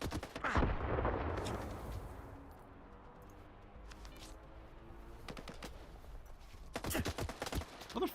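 Enemy gunfire in a STALKER 2 firefight, with a loud close blast at the start followed by fainter scattered shots and bursts at a distance, ending in a quick cluster of sharper shots.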